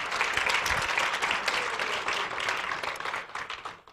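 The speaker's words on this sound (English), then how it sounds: "Give them a round of applause for helping me out here." Audience applause at an illusionist's stage show, dense steady clapping from a crowd that holds for several seconds before thinning out at the end.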